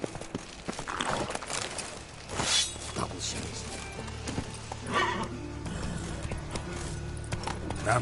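Roach the horse in The Witcher 3 on PS5, with clip-clopping hooves and a whinny amid game ambience, moderately loud with irregular steps and a few sharp bursts.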